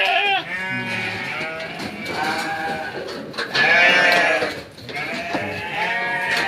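Sheep bleat continuously in a pen at a sheep farm, many overlapping wavering calls from several animals close and far, loud and busy throughout.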